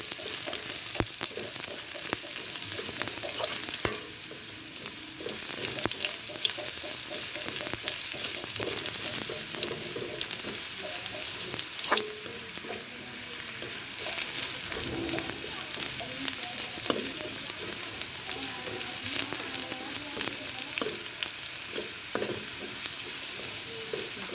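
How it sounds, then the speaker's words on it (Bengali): Onion and garlic frying in a pan over medium heat, a dense continuous sizzle and crackle heard close up for the whole stretch, with faint stirring scrapes and no voices. "যে পেঁয়াজ রসুন ভাজা হয়ে গেছে"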